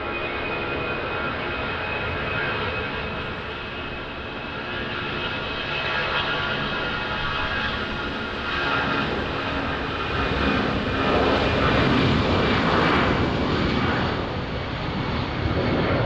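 Airplane on approach to land at Lisbon Airport on runway 20 in a gusty crosswind, a steady broadband jet-engine roar that holds loud throughout and swells slightly toward the end, with no talk.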